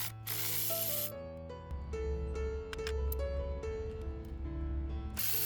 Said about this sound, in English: We're going to use a 10 millimeter socket.